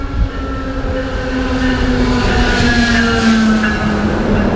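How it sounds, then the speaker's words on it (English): Loud, steady rumble of a Riverside line passenger train running on the rails, with sustained metallic squealing tones over the wheel noise. "We're taking a Riverside line train to downtown Riverside"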